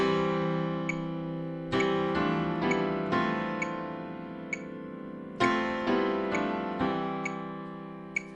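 Piano chords ring together into a blurred, sustained wash, each new attack smearing over the last with no clean breaks.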